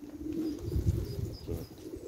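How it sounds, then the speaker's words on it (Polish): A racing pigeon coos in low, soft, throaty pulses, close by and fairly quiet, with a faint rustle of background noise. "No to jest gołąb"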